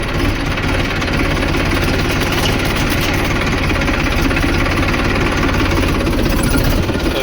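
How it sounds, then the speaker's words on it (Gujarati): A tractor engine idles and runs continuously on a farm during fertilizer sowing work, a loud, steady diesel chugging with a pulsing low rumble that stays constant throughout, with no talk over it. "ट्रैक्टर અહીં ચાલુ જ પડ્યો છે"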